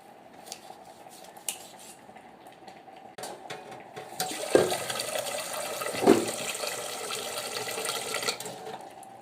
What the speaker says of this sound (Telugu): ఇలా వాటర్ తీసుకొని వాటర్లో శుభ్రం కడిగేస్తానండి.